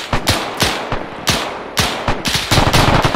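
Gunfire in a WWII video game set during Operation Market Garden: loud, close sharp shots and short machine-gun bursts in an irregular rhythm, ending in a rapid run of shots.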